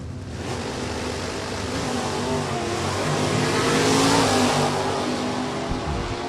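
A 1972 Cutlass drag car launching down a drag strip at Maple Grove Raceway, a loud roaring engine that swells over several seconds and then eases off, no talking.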